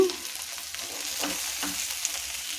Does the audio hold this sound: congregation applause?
no